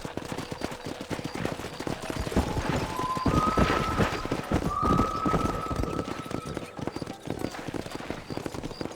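Horse hooves clip-clopping in the video game Red Dead Redemption, a rapid rhythmic patter of galloping beats mixed with a horse's whinny and sustained tones, fairly loud and continuous.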